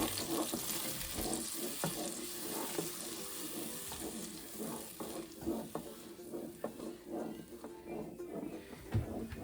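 Blended tomato, onion, garlic and sweet pepper puree poured into a hot pot for jollof rice, giving a steady wet sizzle and bubbling with scattered scraping and clinking from stirring, moderately close with no talk.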